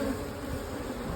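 A dense, steady hum of honeybees rises from brood frames during hive splitting into nucs, a continuous low buzzing of many bees close by with no voices.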